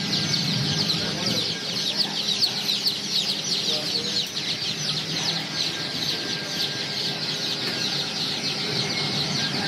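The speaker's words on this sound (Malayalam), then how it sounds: "ഇവിടുത്തെ ഒരു കോഴിപ്പീടിയാണ്." Chickens at a street poultry shop in Iraq cluck and chatter continuously in a busy, close chorus, with faint voices and street noise mixed underneath.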